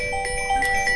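A phone ringing with a bright, electronic warbling tone, repeating short chirps loud and close, alone with no talking.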